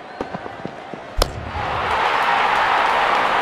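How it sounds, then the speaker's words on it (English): Crisp crack of a cricket bat striking the ball during a Zimbabwe v Netherlands match, one sharp loud hit after a few softer knocks, followed by a swelling roar of crowd noise. "Wonderful sound of the bat."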